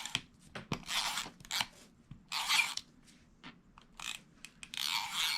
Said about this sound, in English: add some tape to the back.